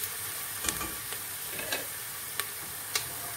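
Onions and beans sizzling and frying in a pot, with a steady close crackle and a few sharp ticks of a utensil stirring against the pot.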